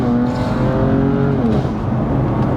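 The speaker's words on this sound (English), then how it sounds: "I'm going to accelerate up to 50, foot flat." A BMW M4 with M4 GTS software and stability control off accelerates flat out in second gear, its engine note climbing loud and close in a continuous rising roar with no talk.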